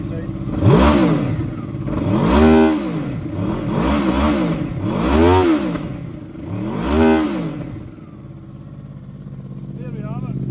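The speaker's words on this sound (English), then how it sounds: "I'll give it a few revs so you can hear how she sounds." 2007 Honda VFR800 motorcycle engine revved five times in a steady rhythm, each rev rising and falling loudly close by, then settling to idle.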